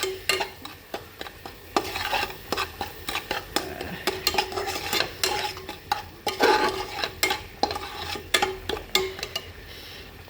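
Taro pieces being stirred and fried in a pan at home, with repeated loud scraping and clanking of a spatula against the metal under a light sizzle, irregular strokes continuing throughout.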